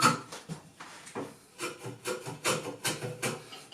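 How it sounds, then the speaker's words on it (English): A block plane shaves a chamfer along the edge of a wooden board in a quick series of short, close rasping strokes, rhythmic and fairly quiet, with no talking. "I can go right around this board, making a chamfer."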